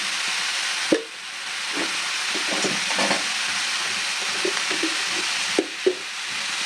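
A vegetable curry with peas and peanuts cooks in a pan, giving a steady soft sizzle and hiss with scattered stirring scrapes and a couple of sharper knocks.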